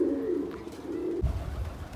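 Pigeons coo nearby at night in a low, soft, rolling call that sustains for about a second. A brief quieter coo follows, then a low rumble of background noise.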